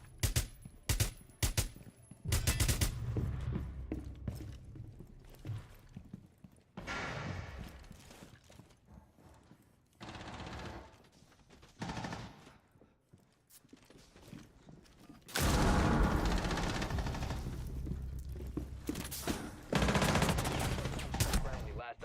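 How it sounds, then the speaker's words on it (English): Gunfire in Rainbow Six Siege, sharp rapid shots spraying in bursts early on, then loud sustained automatic fire later, with quieter stretches and clatter in between. "I'm just gonna shoot randomly."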